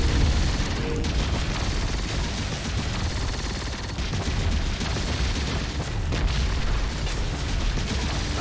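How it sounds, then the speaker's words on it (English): Heavy cannon fire and explosions rumble continuously in the sci-fi tower defense game Siege of Centauri, a dense, loud battle barrage that never lets up, with no talk. "Now would be a great time to deploy a Minos cannon. It delivers massive damage, but is slow to fire."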